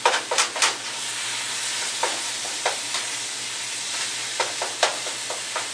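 Lean ground beef browns in a pan, giving a steady sizzle broken by intermittent scraping stirs, loud and close.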